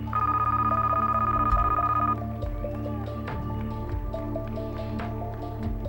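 A big, old-fashioned telephone rings on a game show set: a loud, steady electronic ring for about two seconds, then a softer repeating tone pattern continues over a low background hum.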